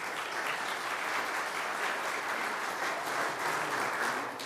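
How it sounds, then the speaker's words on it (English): Audience applause at a piano concert held at a United Methodist church, a soft, steady patter of many hands clapping from the room, continuous and without talk. "Round of applause"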